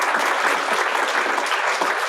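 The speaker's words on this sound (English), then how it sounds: "let's give them a round of applause in each one" Steady applause from an audience at an affordable housing coalition event, dense and even throughout, with no voices over it.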